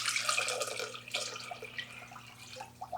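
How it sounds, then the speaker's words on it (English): A quart of water is poured into a cider mix, a close splashing trickle that runs continuously under a faint steady hum. "And then now we're going to add a quart of water."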